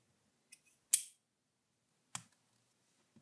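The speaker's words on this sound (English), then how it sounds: "All I'm going to do is cut off about 1 to 2 feet of my leader here." Fishing leader line is snipped with a blade or cutter, giving a few sharp, brief clicks up close in an otherwise quiet setting.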